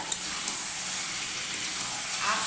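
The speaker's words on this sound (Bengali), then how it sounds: "আস্তে দিয়ে সুন্দর করে মিডিয়াম ফ্লেমে রেখে মাংসটাকে কষিয়ে নেব" Mutton pieces braising in a pan over a medium flame give off a steady, moderately loud sizzle with soft hissing steam throughout, and a faint stir or scrape comes near the end.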